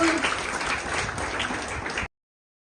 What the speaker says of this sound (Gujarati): આપણે બધા તાળીઓથી વધારીએ.